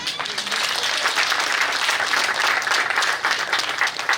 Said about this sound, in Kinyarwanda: ndagira ngo mubakize amashyi menshi cyane